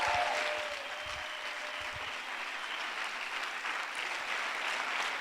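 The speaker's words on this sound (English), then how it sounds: "Big round of applause to all you guys." Applause from an audience of campus representatives at a global summit, a steady wash of many hands clapping for several seconds at moderate volume with no speech over it.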